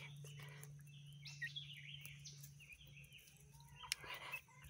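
Easter Egger chickens in their yard give faint, soft chirps and murmuring calls, scattered and quiet over a low steady hum, with a brief sharper peep near the end.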